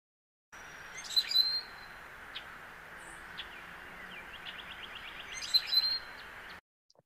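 Recorded rusty blackbird calls: high, creaky squeaking notes like a rusty gate, in two clear bursts with fainter chips between, over a soft steady hiss.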